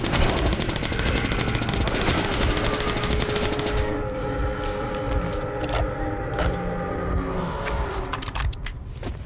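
Gunfire in the post-apocalyptic shooter Metro: Last Light Redux, set in catacombs: loud, dense bursts of automatic fire rattling steadily for several seconds, then thinning into scattered sharper shots and echoing clatter.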